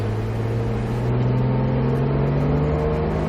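Porsche GT3 RS engine pulling steadily at low speed in a parking area, a smooth sustained drone with a rising tone after an upshift, close and continuous with no talk.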